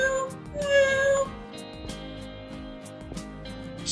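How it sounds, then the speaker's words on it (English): A cat meowing, a clear drawn-out meow near the start followed by softer calls, heard close up over gentle background music. "What sound does a cat make?"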